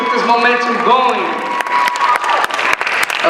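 At a spoken word showcase, a voice speaks at first, then audience applause and cheering rise, with claps and whoops continuing over the rest.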